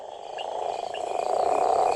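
A male toad croaks loudly to attract a female, a steady trilling call that builds slightly in volume, close and alone with no talk.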